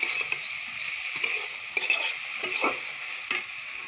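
Food fries again in a pan once the added water has cooked off, with a moderate sizzle broken by several sharp stirring scrapes and clinks of a utensil against the pan.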